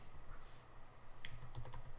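Code being typed on a computer keyboard, a soft quick patter of key clicks, faint and steady over low background hum.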